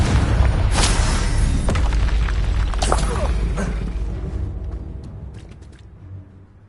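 A Confringo blasting spell from the Hogwarts game bursts in a loud, deep boom, followed by crackling debris and sharp pops that slowly fade and thin out over several seconds.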